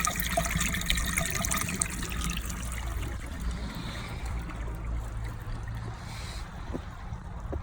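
Dirty water flushing through a DIY upward-flow pond gravel filter used as a blowout, a steady close rushing and trickling wash that runs continuously with no talk.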